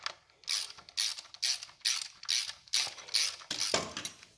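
Ratchet wrench tightening 5/16-inch bolts on the primary chain case of a 1975 Norton Mk3 motorcycle: about eight quick bursts of rapid clicking, close and fairly loud, with no talk.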